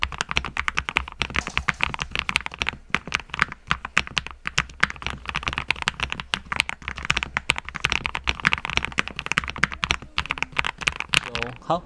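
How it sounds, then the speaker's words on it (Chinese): Close, continuous fast typing on a Mikit M65 mechanical keyboard with lubed switches and tuned stabilizers, producing a dense stream of soft, muted keystroke clacks throughout. "声音手感呢获得相当大的解决，这个手感有点接近 Top 结构，不过打字声音更加柔和好听"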